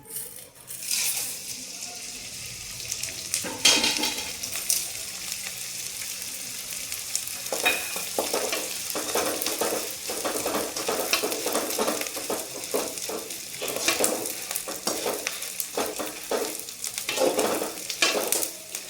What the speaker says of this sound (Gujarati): હવે આપણે ગુંદ તળી નાખશું આમાં